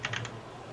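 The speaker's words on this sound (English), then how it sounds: "Is someone typing? It's like super loud." Loud computer keyboard typing during a sim racing broadcast for a Monza round, a quick burst of several close, crisp keystrokes followed by a quieter tail.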